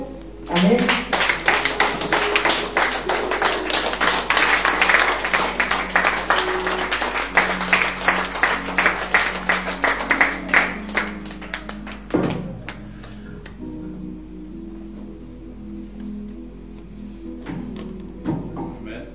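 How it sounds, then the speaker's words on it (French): A church congregation at a Friday worship service claps and cheers loudly, dense rhythmic applause building and sustained for about twelve seconds before thinning into scattered claps and murmured voices. "Est-ce que je peux entendre tes acclamations?"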